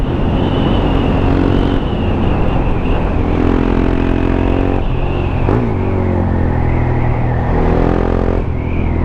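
KTM Duke R 690 2017 supermoto-style motorcycle riding on the road, its single-cylinder engine droning steadily with rises and dips in revs as it accelerates and shifts, under continuous loud wind rush throughout.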